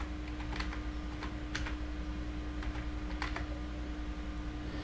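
Soft, quick keystrokes on a computer keyboard, irregular clusters of taps over a steady background hum, close and fairly quiet, with no talking.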